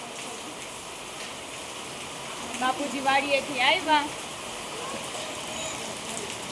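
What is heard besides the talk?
rain falling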